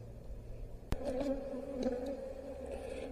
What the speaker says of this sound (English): there's a lot of bees in here still